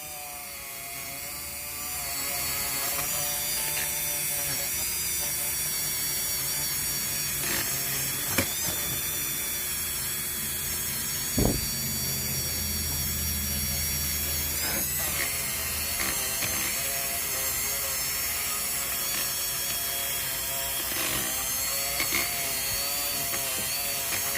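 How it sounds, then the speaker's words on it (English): A handheld Dremel rotary tool polishes a rebuilt Rolls Royce water pump part, giving a continuous high-pitched whine with occasional clicks and bumps across about twenty seconds. "we kind of use our Dremel tool here to work it in, and we'll give it a nice high polish."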